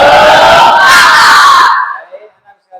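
Schoolchildren in a classroom shout a rhythmic tepuk semangat clapping cheer in unison, loud and close, and the chant cuts off sharply partway through, leaving only faint scattered sounds after.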